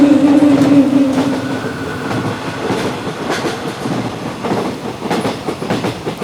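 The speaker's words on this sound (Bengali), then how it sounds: "রাতের শেষ ট্রেন শিয়ালদাহ গেদে লোকাল।" A local train on the Sealdah–Gede line at night, used as an effect in a radio horror story, rumbling steadily with a brief whistle at the start and rhythmic clattering of wheels on rails throughout.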